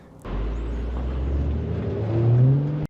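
A Can-Am motorcycle with 97,000 kilometers on it, ridden fast in Slovakia: a loud, steady engine roar that begins abruptly, climbs in pitch toward the end as it revs harder, then cuts off sharply.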